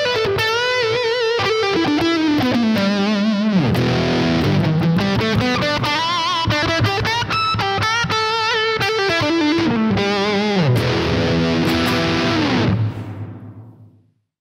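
An instrument played through a distorted tone with a long reverb algorithm on a Steinberg UR824 interface winds through loud sustained melodic runs, then stops and leaves a smooth reverb tail fading out over the last couple of seconds.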